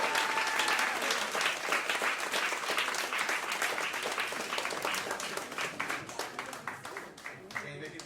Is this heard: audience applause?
yes